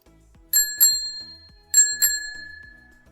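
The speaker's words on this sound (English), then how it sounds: "I have one sound effect called bicycle bell here in my folder." Two quick double rings of a bicycle bell sound effect, each pair a bright metallic ding-ding, the second pair ringing out and fading slowly, clear and alone.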